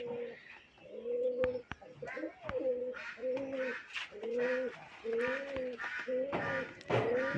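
White pigeons coo in repeated soft, throaty phrases close by, with a few faint clicks and rustles between calls.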